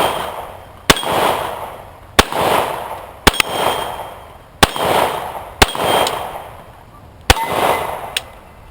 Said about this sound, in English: Colt Lightweight Commander. Shooting steel at 12 yards.